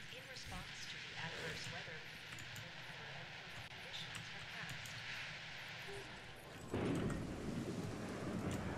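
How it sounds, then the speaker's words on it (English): Thunder rumbles and rain falls during a storm in the video game Jurassic World Evolution, with heavy downpour throughout and a louder rolling crash near the end. Someone talks over the storm. "Of all the times the storm had to be here."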